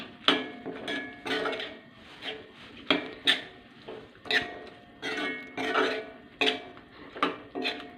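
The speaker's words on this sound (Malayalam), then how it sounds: "നമുക്കിനി അതിലേക്ക് അരിഞ്ഞു വച്ചിരിക്കുന്ന നാരങ്ങ ചേർത്ത് കൊടുക്കാം. എല്ലാം കൂടി നമുക്കൊന്ന് മിക്സ് ചെയ്യാം." Chopped lemons being stirred into a red Kerala-style lemon pickle in a pan, a steady series of scraping, clinking strokes of a spoon against the pan, close and repeated roughly every half second, with no talking.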